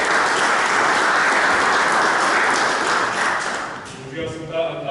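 Audience applause at a Slovenian book presentation event, a dense sustained clapping that fills most of the clip before thinning out near the end as a voice begins over it.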